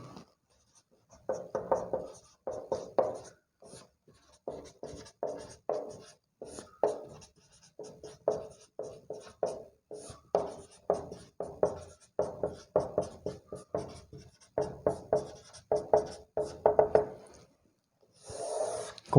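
Chalk or pen writes on a board during a maths lecture, a long run of quick scratchy strokes in bursts with short pauses, close and moderately loud, with no talking.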